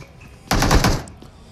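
A short, loud burst of automatic gunfire in a battle royale shooter game, several rapid shots over about half a second, then fading into background game noise.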